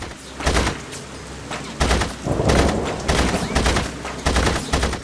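Gunfire in The Saboteur video game, repeated bursts of shots in irregular clusters, loud and close, with some background game sounds.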